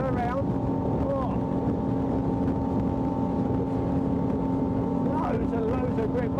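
Iron Boats 827 motorboat carving a full 360-degree turn at about 41 to 42 knots, a loud steady engine drone with hull slap, wind buffeting and spray throughout, with a voice talking over it.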